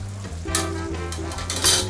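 A paella sofrito with squid ink sizzles and crackles in a hot pan, with bright spitting bursts and soft stirring scrapes, close and continuous.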